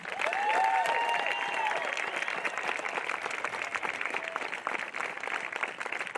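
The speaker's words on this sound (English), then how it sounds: "Please join me in applauding the impending service of these young men and women." A large audience at a graduation ceremony claps steadily in a dense, continuous wash of applause, with a few faint whistles early on.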